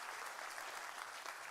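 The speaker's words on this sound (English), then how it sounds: "go ahead and give him a round of applause" An audience at a sheriff's office awards ceremony applauds, a steady dense patter of many hands clapping together indoors, fairly quiet and brief with no voices over it.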